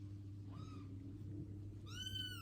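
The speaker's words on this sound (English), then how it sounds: "it's a little tomcat, as you can hear. The boys are always very noisy, kittens or puppies" A little tomcat kitten meows twice, a short mew followed a second later by a longer, louder one, heard fairly close over a low steady background hum.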